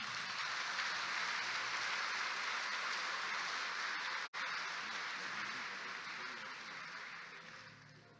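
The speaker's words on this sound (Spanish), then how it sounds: "Aplausos, comenzamos." Applause at a professional engineers' admission ceremony forms a quiet, even wash of many hands clapping. It pauses briefly midway, then continues and slowly tapers off.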